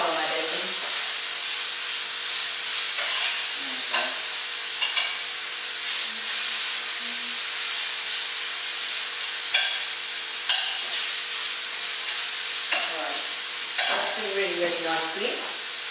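Bacon frying in a pan for a sausage and bacon casserole, a loud steady crackling sizzle with occasional spatters and spoon scrapes, while a voice talks intermittently over it.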